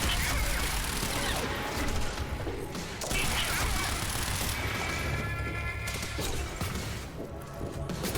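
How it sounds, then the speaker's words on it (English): Gunfire in the action game Quantum Break, a steady barrage of sharp, overlapping shots and rattling clanks filling the whole stretch at close, loud level with no pauses. "Who is shooting at me?"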